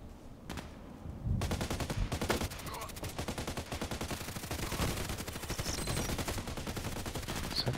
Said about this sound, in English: Somebody's already shooting at me